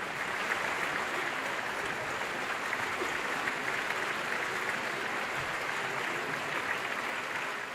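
An opera audience applauds Bonaparte without stopping, a steady wash of clapping heard at moderate distance throughout.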